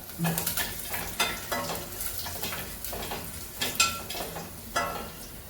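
Curry leaves sizzle and fry in a pan for South Indian sambar, a soft crackle broken by repeated clinks and scrapes of stirring at an uneven rhythm.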